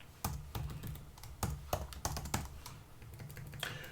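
Typing on a computer keyboard: a short burst of close, irregular key clicks and taps, fairly quiet, with no voices.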